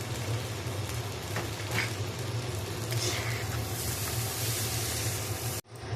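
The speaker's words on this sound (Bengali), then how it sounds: "এখন এর মধ্যে একটু জিরা মশলা দিয়ে দেব। একটু নাড়ে নেব।" Steady broadband sizzling from a hot pan as cumin spice is added to boiled lentils, with soft scraping as the mixture is stirred, continuous and close, ending abruptly.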